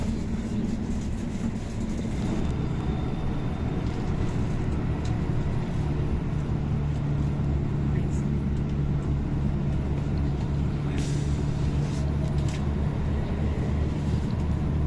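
A Volvo bus cruises and overtakes other vehicles on the Cipali toll road, giving a steady, loud drone of engine and road rumble that stays constant throughout with no talking.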